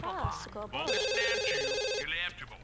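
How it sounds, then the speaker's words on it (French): A telephone rings in The Sims 2, a bright electronic trilling tone held for about a second amid playful game sounds, with a person talking over parts of it. "Téléphone."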